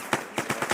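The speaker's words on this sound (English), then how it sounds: "Victor, you're getting shot from the rear." Gunfire in the military shooter Arma 3: a quick string of about four or five sharp shots in uneven rhythm, mid-distance and moderately loud, with no voices.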